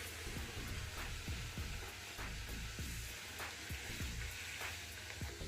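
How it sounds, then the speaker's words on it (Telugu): Puris frying in a pan of hot oil, giving a steady broadband sizzle with scattered bubbling pops and crackles throughout, fairly close. "ఇలా అన్ని వైపులా ప్రెస్ చేసుకుంటూ ఆయిల్లో ఫ్రై చేసుకోవడమే"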